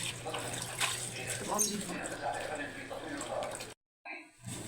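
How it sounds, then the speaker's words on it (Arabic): Molokhia leaves are washed under a running tap, a steady splashing rush of water beneath a voice that cuts off briefly near the end. "هفضل بقى اغسل الملوخية كده لحد ما المية"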